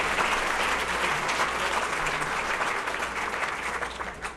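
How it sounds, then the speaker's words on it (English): A crowd applauds loudly and continuously at a chamber of commerce dinner, a dense wash of clapping that tapers slightly toward the end. "A big round of applause for our board of directors."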